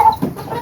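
Chickens near the coop giving a single short, close cluck, loud and alone.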